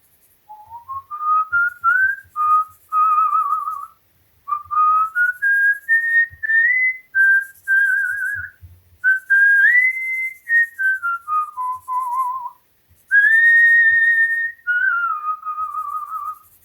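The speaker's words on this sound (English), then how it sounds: "This comes into a lot of things I whistle." A person whistles a made-up melody alone, a clear, close, bright line of sliding and sustained notes in phrases with short pauses, with faint handling noises beneath.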